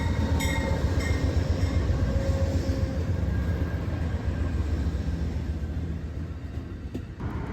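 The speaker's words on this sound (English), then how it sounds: "Starting us off, we have Amtrak's Phase 7 unit." An Amtrak Phase 7 heritage-scheme P42DC diesel locomotive passes close by, a loud steady rumble and roar of engine and rolling wheels that holds strongly throughout, with a faint high squeal near the end.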